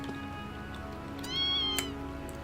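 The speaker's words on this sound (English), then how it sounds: "It's a kitty." A cat meows in the video game Trails of Cold Steel: a single short, rising, tonal mew stands out over a quiet, steady game background.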